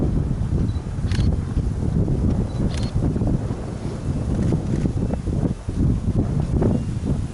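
Steady wind at a huge quarry buffets the microphone in gusty, rumbling bursts, loud and close, with no voices.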